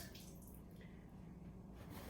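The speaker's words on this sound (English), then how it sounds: "I'm gonna wash my hands now because I'm gonna touch it." Warm tap water runs steadily as hands are washed with soap at a sink, a continuous close splashing wash with faint drips throughout and no speech.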